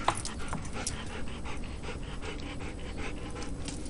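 A dog pants steadily and rapidly nearby, with a constant background hiss as light rain falls.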